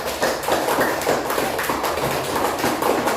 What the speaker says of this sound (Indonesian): Tepuk tangan dulu buat kelompok 4